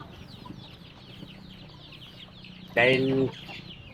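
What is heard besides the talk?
chickens clucking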